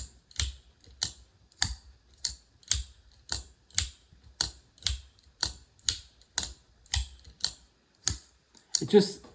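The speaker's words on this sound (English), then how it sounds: "I don't think that this is a bad sounding knife." A micarta-handled folding knife flicked open and shut again and again, a steady series of about fifteen crisp, close clicks at an even rhythm, ending in a brief rattling handling noise.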